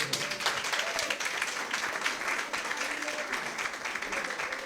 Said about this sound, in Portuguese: Uma salva de palmas para a mulher de Xamangulo.